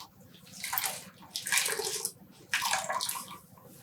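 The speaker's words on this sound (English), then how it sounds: "I'm squeezing out the water. I'm not wringing the yarn or using any type of violence." Water is squeezed by hand out of dyed yarn, giving three separate bursts of dripping and splashing into a basin, close and fairly soft, with quiet pauses between squeezes and no talking.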